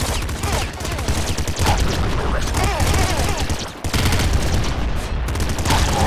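Pop gun firing in the video game Nuclear Throne, a dense, unbroken stream of rapid gunshot pops and impact effects, loud and close, with brief dips in the barrage.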